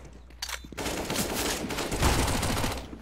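Sustained automatic gunfire from the video game Counter-Strike forms a dense, loud burst of rapid shots that runs almost continuously for several seconds after a brief lead-in of separate shots.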